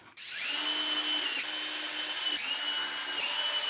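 Power drill driving coarse-thread screws into softwood while building a small table, with a loud, close, high whirring motor in about three bursts that briefly dip between them, and no voices.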